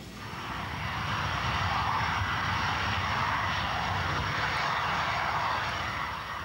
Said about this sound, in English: Their Jaguar, XX145, begins to roll along the long Boscombe Down runway for takeoff on the low-level exercise.